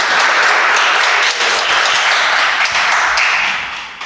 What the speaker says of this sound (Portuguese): Aplauda mais uma vez o Senhor que está entrando na palavra.